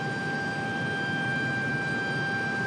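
A UPS cargo plane departs Raleigh-Durham International Airport at evening, its steady distant engine drone carrying a faint tonal whine, quiet and continuous with no voices.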